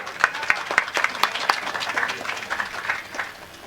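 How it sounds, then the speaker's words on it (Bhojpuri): Crowd applause at a Bhojpuri Birha singing contest: a run of sharp, distinct hand claps rising out of a denser clapping wash, fairly close and loud, then tapering off. "एक बार ताली बजा दो।"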